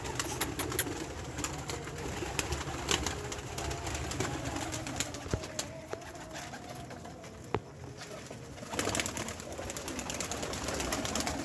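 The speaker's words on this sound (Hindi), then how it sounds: "ये कबूतर हमारे दाना खाना शुरू हो गए हैं" Pigeons coo softly nearby while pecking at scattered grain, with low, repeated calls over quiet background noise and an occasional tap or rustle.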